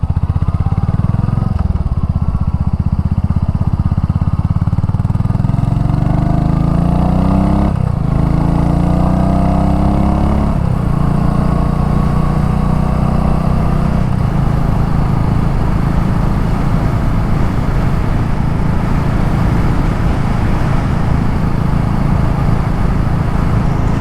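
A Royal Enfield Hunter 350 motorcycle fitted with an aftermarket exhaust idles and revs. Its steady low engine rumble rises in pitch through several throttle blips early on, then settles into a continuous close, loud running note.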